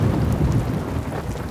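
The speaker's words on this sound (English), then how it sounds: "Oh, no! It's a thunderstorm!" A cartoon thunderstorm with a deep thunder rumble over steady rain, loud and close, filling the brief moment without any voices.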